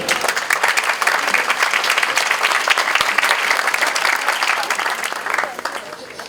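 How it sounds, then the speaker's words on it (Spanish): An audience at a science talk in Peru applauds as a speaker is welcomed, loud continuous clapping from many people that holds steady before tapering off at the end. "Lo recibimos con un fuerte aplauso, por favor."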